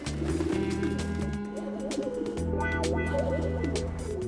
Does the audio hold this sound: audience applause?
no